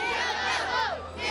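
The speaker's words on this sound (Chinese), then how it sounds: "近百位的小影迷手戴着黄色手套，扮起乐高积木，他们齐声欢呼" Nearly a hundred young fans in yellow gloves, dressed as Lego bricks at a Lego Ninjago movie premiere, cheer together in a loud, continuous chorus of high children's voices.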